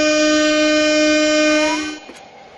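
A loud, sustained train horn from the video game Train Simulator Bangladesh blares steadily for nearly two seconds, bending slightly in pitch before cutting off abruptly, with a brief quieter tail afterward.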